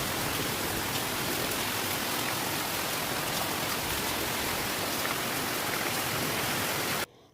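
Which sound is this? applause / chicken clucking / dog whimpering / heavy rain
heavy rain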